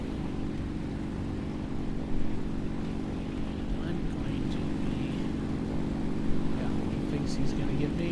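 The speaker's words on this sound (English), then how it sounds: "I'm gonna punch up the engine power again." Steady, loud droning of a MiG-3 fighter plane's propeller engine in the combat flight game War Thunder; the engine swells slightly as power rises and holds a constant hum throughout.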